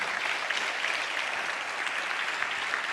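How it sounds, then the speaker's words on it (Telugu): Church congregation clapping together in steady, continuous applause, a dense even patter filling the whole stretch with no pauses. "చప్పట్లు కొడుతూ స్తోత్రాలు చెప్తాం."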